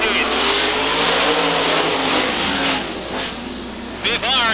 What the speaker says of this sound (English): It's 8 laps of racing in our first Wing Sprint car heat.